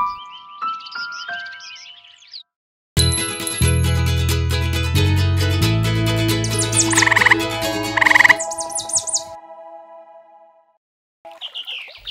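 Frog croaks ring out in short bursts beside a pond, with bright tinkling chimes and a playful musical backing that stops and restarts around them.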